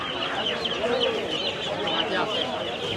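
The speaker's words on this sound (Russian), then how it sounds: "курицы в мешках просто живые продаются" Live chickens, some held in sacks, cluck steadily at a busy Bangladesh market where the halal birds are sold, a dense chorus of overlapping calls close by over constant crowd murmur and faint voices.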